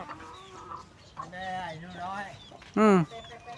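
Chickens cluck in short bursts close by, with one loud squawk near the end, while a person talks over them.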